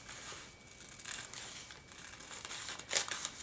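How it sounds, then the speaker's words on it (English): Sheets of tracing paper being handled, crinkling and rustling close by in soft bursts that swell louder near the end, with no talking. "I just love the feel and the sound of tracing paper."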